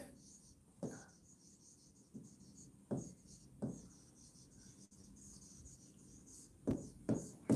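Chalk scratching on a classroom board during a Hindi history lesson on the Gupta period, in short separate strokes with brief pauses between them, moderately close and alone.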